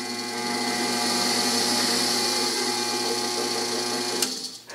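A small DC motor runs forward after a reverse switch has been fitted, giving a steady, even mechanical whine with a constant hum, fairly close, before it cuts out abruptly near the end.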